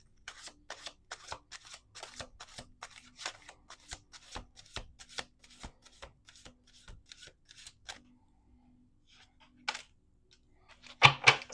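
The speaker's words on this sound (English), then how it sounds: "Let's do two more shuffles." Tarot cards riffle and snap in a quick, steady run of crisp shuffles, close and fairly quiet, then pause briefly before a louder final burst of shuffling.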